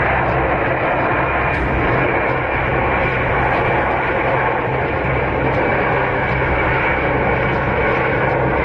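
Airliner engines droning loud and close as the plane threads between hills before landing, a constant, dense roar with no pauses.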